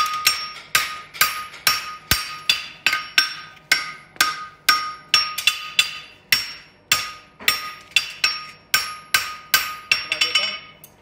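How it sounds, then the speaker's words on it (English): Heavy hammer blows strike steel on an anvil while forging horseshoes, in a steady, forceful rhythm, each hit ringing sharply, about twenty strikes close by with no talking. "Let the hammer do the work. Drive the steel down into the anvil."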